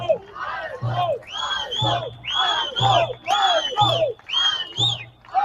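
A large crowd chants in rhythmic unison, with repeated loud shouted phrases and cheers rising and falling in regular bursts, heard through a played-back news recording.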